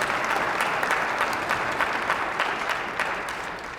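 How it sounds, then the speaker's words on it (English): Sustained round of applause from an audience at a retirement ceremony for a state supreme court justice, dense clapping that swells then slowly tapers. "we owe him a round of applause just for that right there"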